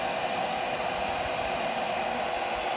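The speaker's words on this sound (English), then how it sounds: "gonna just continue to vacuum the bees off here" A bee vacuum sucks honey bees off an open-air colony's comb, a steady airy hiss that holds level and moderately loud from start to finish.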